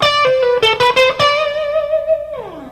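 Electric guitar through an effects unit plays a slowed-down lick of quick pull-offs and picked notes, a few sharp attacks giving way to a long sustained note that bends downward at the end, loud and alone.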